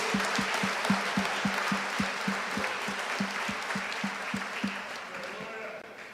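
Church congregation clapping in a steady, rhythmic unison beat of about three claps per second, a broad wash of crowd sound beneath it, fading slightly toward the end.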